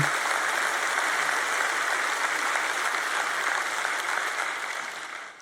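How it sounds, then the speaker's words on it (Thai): A congregation at a church service applauds in a dense, unbroken wash of clapping that holds steady at a fairly loud level, then fades slightly toward the end, with no voices on top. "มาค่ะปรบมือสรรเสริญพระเจ้าด้วยกัน"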